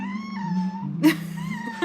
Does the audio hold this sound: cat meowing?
yes